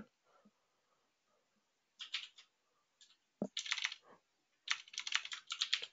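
Quiet bursts of typing on a computer keyboard, with short clusters of key clicks separated by pauses, close and faint, with no speech.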